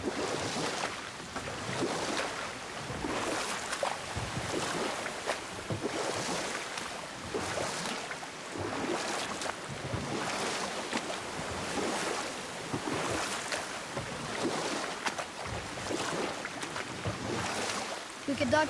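A boat moving across water in God of War, with a steady wash of waves and wind noise and rhythmic strokes through the water, continuous and fairly close, with no one talking.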